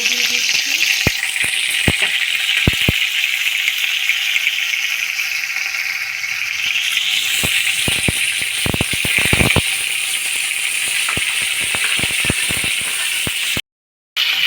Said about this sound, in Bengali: দু চামচ মতো তেল দিয়ে দিলাম তেলটা গরম হয়ে গেছে এবার ফুলকপি